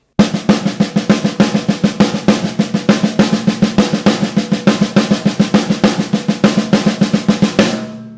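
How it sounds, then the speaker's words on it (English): A double paradiddle played evenly on a drum kit with no accents, a steady stream of equal-volume strokes running continuously for about seven and a half seconds before ringing out. "The double paradiddle is a wonderful rudiment, but if you play it without any accents, it sounds like this."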